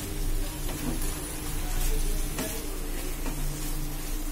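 Potato and pointed gourd cooking uncovered in a pan for a poppy-seed curry, giving a steady low sizzle with faint stirring clinks throughout.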